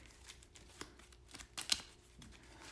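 A deck of playing cards being shuffled by hand, quiet riffling with a brief louder burst of flicking, close and otherwise near-silent.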